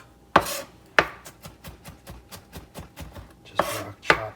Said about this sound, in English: just rock chop these